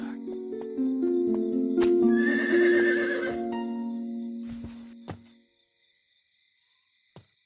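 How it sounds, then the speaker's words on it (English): A horse in a Snow White story gives one loud, close whinny with clopping hooves, then falls quiet, leaving a couple of faint thuds at the end. "The hunter sighed and stopped the horse."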